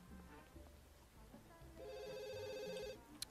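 A telephone rings in The Sims 2, a faint electronic ring repeating briefly over quiet game background, with a voice speaking softly nearby.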